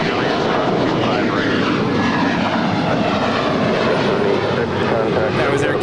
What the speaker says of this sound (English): That was Air Canada 786 departing to Toronto. It's a 13-year-old Airbus A321.